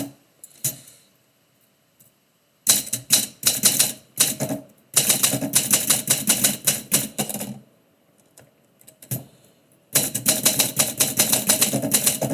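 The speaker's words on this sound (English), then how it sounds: "since I'm typing again" A manual typewriter is typed on in quick bursts of sharp mechanical key strikes, separated by short quiet pauses and a lone carriage-return clack, loud and close.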